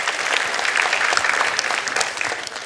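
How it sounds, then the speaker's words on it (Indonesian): Audience applause at an Indonesian awards event for regional heads, a dense, even wash of clapping that runs throughout with no talk over it. "Tepuk tangan untuk iNews"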